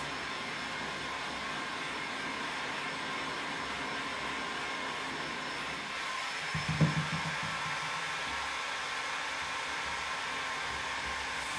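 A heat gun blows steadily while warming a corner, a continuous airy roar throughout, with a brief louder bump of handling noise midway.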